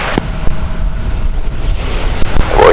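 An airplane at Kagoshima Airport on runway 34 produces a loud, steady engine roar mixed with wind buffeting, with a few sharp knocks and a brighter whine at the end.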